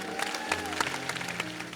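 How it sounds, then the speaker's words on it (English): Church congregation clapping hands in a brief burst of scattered claps, moderately loud, with music or voices faintly underneath. "Clap your hands for the Lord, somebody."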